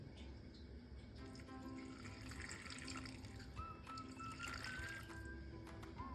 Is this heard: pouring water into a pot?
yes